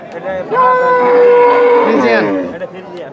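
A Jersey cow gives one long, loud moo up close, rising and then trailing off, with faint background murmur before and after.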